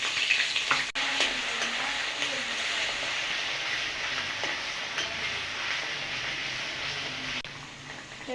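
Ginger garlic paste for a chicken curry sizzles steadily in a hot pan, an even frying hiss with occasional soft scrapes and clicks of stirring, close and moderately quiet.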